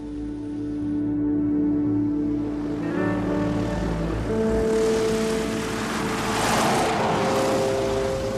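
A propeller airplane arriving with a steady, loud droning engine hum and rising rotor tones that stay constant throughout, with no talking.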